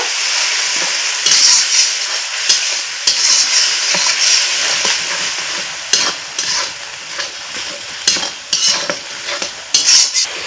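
Egg curry spices frying and sizzling in a pan while being stirred, a steady bright sizzle broken by repeated scraping and clinking strokes of a spoon against the pan throughout, close up.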